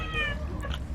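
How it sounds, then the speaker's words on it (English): A cat meows once, close and clear, a drawn-out tonal cry followed by a shorter second note. "I hear a kitty."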